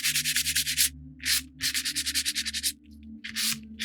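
Sandpaper lightly rubbing wooden parts of a model RMS Titanic ship kit, short rhythmic strokes in quick bursts with brief pauses, close up and with no voices.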